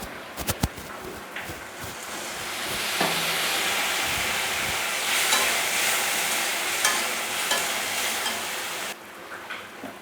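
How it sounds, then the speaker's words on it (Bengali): Papaya and potato are stirred and sautéed in a pan with a little water, a continuous sizzle and frying hiss with clattering spoon scrapes at the start, steady until it drops off near the end. "পেঁপে আর আলুটা ভালো মতো কষানো হয়ে গেছে।"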